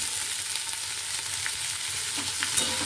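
Potato and cauliflower frying in a wok of mustard oil with ginger-chili paste, a continuous close sizzle with light stirring scrapes and a faint clink near the end.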